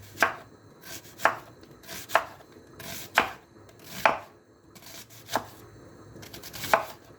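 A knife chops a large onion on a board in sharp, evenly spaced cuts, about one per second, close and crisp with no talking.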